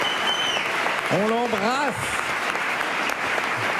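Studio audience applause on a French late-night talk show, steady clapping throughout, with a person speaking briefly over it.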